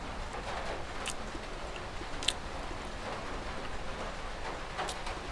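Rain falls steadily outdoors as an even, dense hiss, with a few sharper drops or splashes standing out now and then and no clear talking.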